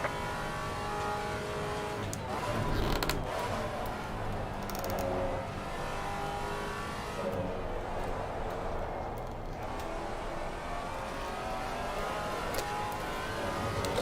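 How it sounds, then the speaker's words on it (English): Race car in Assetto Corsa Competizione at Suzuka, a Maserati GT4 in a multiclass race, engine droning loudly and continuously with a faster car closing from behind, a dense steady roar throughout. "Faster car coming up behind. Watch out."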